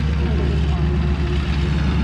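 Propeller airplane taxiing at a flying circus air show ahead of a wing-walking act, a steady loud droning engine hum with a constant low throb throughout.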